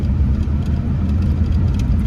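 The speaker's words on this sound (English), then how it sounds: "It's actually kind of pleasant driving around on an open station tractor all day." Open-station tractor engine runs at a steady low rumble throughout, close and loud with a constant droning hum and no breaks.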